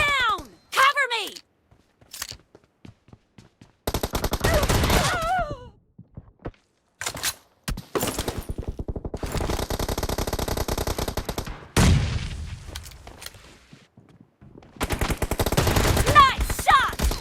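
Bursts of gunfire in the mobile battle-royale game PUBG Mobile, with a shotgun in play, come in several loud volleys separated by short pauses, mixed with game voice callouts.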